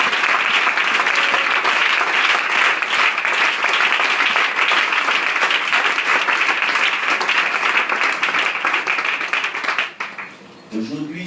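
A church congregation applauds a visiting bishop with loud, sustained clapping that fills the room for about ten seconds before tapering off abruptly, with a brief trailing sound at the end.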